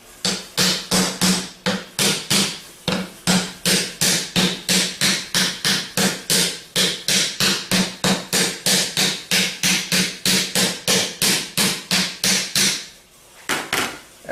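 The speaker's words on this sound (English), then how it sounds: "Then we can just tap it on." A GM AD series alternator lid is tapped into place on the alternator body with a steady run of about forty sharp, evenly paced hammer taps, close and loud, ending in a brief pause and a final knock.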